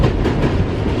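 A New York subway train riding along, a steady loud rumble of the carriage close by and alone, with no voices.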